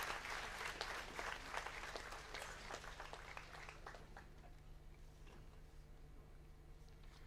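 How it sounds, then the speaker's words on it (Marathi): Audience applause at the 113th convocation of RTM Nagpur University, a sustained dense clapping of a large hall crowd that starts full and slowly thins and fades over about seven seconds. "प्रोत्साहनपर टाळ्या फुकट आहेत, त्यामुळे आपण भरपूर वाजवू शकतो."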